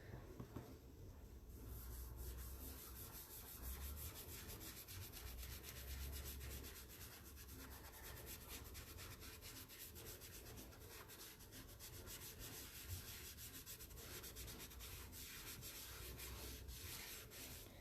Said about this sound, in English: So when you're sponging, you can press a little harder if you're trying to get it darker.